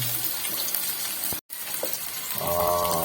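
Onion and green chilli hit hot oil with popped mustard seeds while making puttu biryani, giving a steady close sizzle and frying hiss for about three seconds, broken by one brief silent gap.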